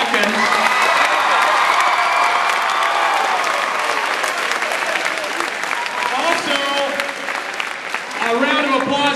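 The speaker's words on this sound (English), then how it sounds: "Let's give one more round of applause for our special guests, Miss Stephanie Bean and Pastor Happy Watkin" Sustained audience applause fills a convocation hall during a Martin Luther King Jr. commemoration, dense steady clapping with some cheering and whoops, loud and close, tapering slightly near the end.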